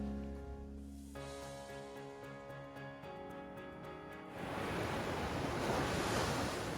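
Ocean surf rolls onto a Santa Barbara beach at sunset. A steady humming tone comes first, then a broad, loud wash of breaking waves rises and continues.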